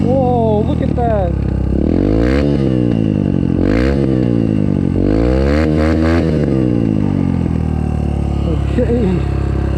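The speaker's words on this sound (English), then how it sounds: "should we try burnout?" A 2016 Yamaha 125 dirt bike revs hard on a trail, its engine pitch sweeping up and down in repeated loud, close bursts, with voices talking over it.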